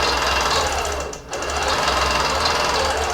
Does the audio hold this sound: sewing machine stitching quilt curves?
yes